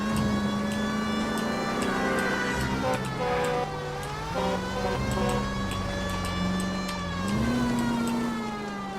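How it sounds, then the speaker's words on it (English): A loud, steady electronic police car siren in the video game LA Noire wails continuously, its pitch rising and falling in smooth sweeps over an engine hum. "I have my sirens on."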